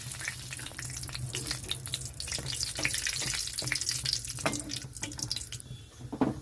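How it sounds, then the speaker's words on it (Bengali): Loud crackling and spitting as whole spices, bay leaves and dried chillies hit hot oil in a wok, bursts of sizzle rising and falling over several seconds, close by. "কড়াইতে তেলটা গরম হয়ে গেছে তো এখানে আমি দিয়ে দিচ্ছি গোটা তেজপাতা গরম মশলা শুকনো লঙ্কা"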